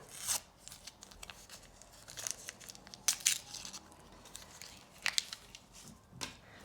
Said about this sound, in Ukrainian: ми вже відкриваємо пакетик з котиком